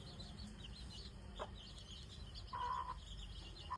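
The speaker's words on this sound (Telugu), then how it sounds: "మీలో ఎవరైనా కోడి గుడ్డు పెట్టడం చూసారా?" Hen clucking while laying an egg on a farm, a few short quiet clucks and calls spread over a soft background hiss, with one slightly longer call near the end.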